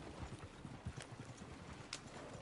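Horses in the Red Dead Redemption 2 video game clatter in a quick, uneven clip-clop of hooves, steady and moderately close, with a faint high snort or whinny rising now and then over the hoofbeats.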